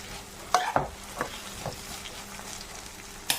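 Onion with ginger garlic paste and green chili sautés in a pan, a steady sizzle broken by a few sharp stirring scrapes spaced through the clip.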